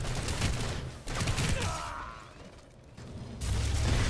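GR assault rifle fired in Planetside 2, a close-quarters gun with soft point ammo, heard as a dense rapid burst of loud gunfire, a brief lull with a whooshing effect, then heavy fire resuming.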